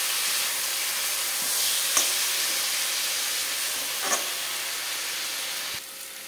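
Green chili paste and chopped tomato fry in a pan for a katla fish curry with drumsticks and potatoes, making a steady, close sizzling hiss broken by a few stirring scrapes, with no voices.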